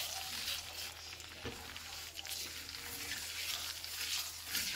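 Butter and brown sugar sizzle steadily in a skillet for a skillet apple pie, a continuous bright crackling hiss with small pops, close and even throughout.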